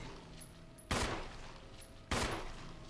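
Two heavy gunshots ring out about a second apart in Resident Evil 1, each a sharp loud blast with a short decaying tail over a low game background.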